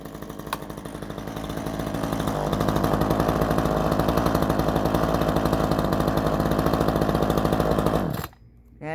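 A Black Max gas chainsaw engine runs with a buzzing two-stroke drone, climbing steadily into a loud sustained rev, holding high for several seconds, then cutting off abruptly near the end.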